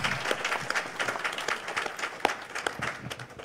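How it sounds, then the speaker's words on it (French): Audience applause at a gathering addressed by Haitian President Jovenel, a steady patter of many hands clapping at moderate level with scattered sharper claps and light crowd noise underneath. "Applaudissez s'il vous plaît"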